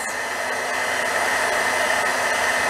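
A heat embossing tool blows hot air over silver foil, a loud, steady hair-dryer-like whoosh with a constant fan hum, held alone without speech.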